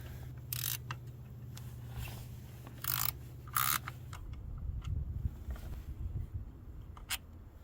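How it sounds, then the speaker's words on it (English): An 8mm bolt is worked loose from the camshaft position sensor on a Toyota Camry 2.5L engine, with quiet ratchet clicks, short metallic scrapes and tool handling noises spread irregularly, close and faint. "And we have this 8mm bolt that we're going to have to remove."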